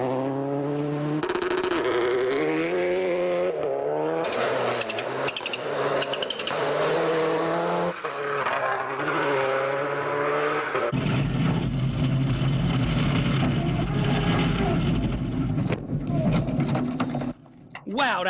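A rally car driven by David Higgins races through the turns of the 2014 Susquehannock Trail Performance Rally, its engine roaring steadily and shifting pitch as it works the corners. A commentator talks over it throughout.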